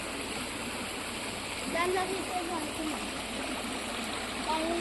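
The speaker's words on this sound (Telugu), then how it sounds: "అసలు చూడు వాటర్ సౌండ్స్" Clear stream water flowing over rocks at Thekkady, Kerala, a steady close rushing with small splashes, and brief voices faint beneath it.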